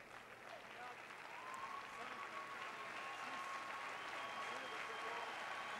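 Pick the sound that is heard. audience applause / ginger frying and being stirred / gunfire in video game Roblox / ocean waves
audience applause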